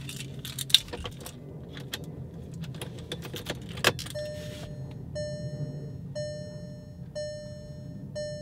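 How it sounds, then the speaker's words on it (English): A 2015-2017 MK7 Volkswagen Golf GTI being switched on with the key: keys jangle and click in the ignition over a low cabin hum, followed by a series of regular electronic chimes from the dashboard. "turn on the car"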